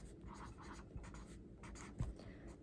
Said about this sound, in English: I'm going to write that down. I'm going to write down popcorn